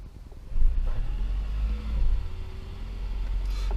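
A 4-litre Toyota Majesta engine, just started, settles into a low, steady idle. After a brief rise in the first second, a deep rumble holds close and even throughout.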